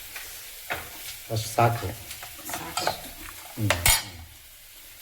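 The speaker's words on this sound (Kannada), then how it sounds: "ಈ ಸ್ವಲ್ಪ ಒಗ್ಗರಣೆಯನ್ನ ಇದು ಸಾಂಬಾರಿಗೆ ಹಾಕ್ತಾ ಇದ್ದೀನಿ" Hot tempering (oggarane) is poured into a pot of special nutritious sambar and gives sharp bursts of sizzling. Stirring and utensil clatter mix with brief spoken remarks nearby.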